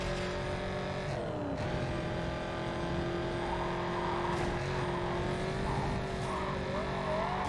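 Race car engines in Need for Speed: Carbon, including a Dodge Challenger concept and a Porsche Carrera GT, hold a loud, steady high-revving drone with shifting engine pitch and brief tire noise throughout.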